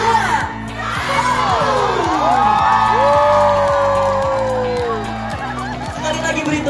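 A crowd at a vocational high school graduation farewell in Pematang Siantar cheers and shouts in a loud sustained roar, with whoops and high shrieks rising over a steady thumping beat.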